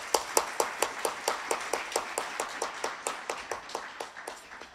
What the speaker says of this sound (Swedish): En applåd för denna fantastiska panel.